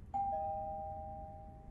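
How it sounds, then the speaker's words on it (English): A single video-game doorbell in an apartment rings out as a clear two-tone ding-dong, the second note sustaining and slowly fading over a quiet background. "Oh look, doorbell."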